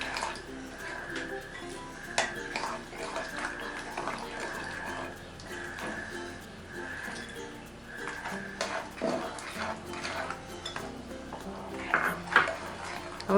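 Eggless, butterless cake batter being mixed as milk goes in gradually, a spoon clinking and scraping against the bowl in uneven strokes with soft wet stirring underneath.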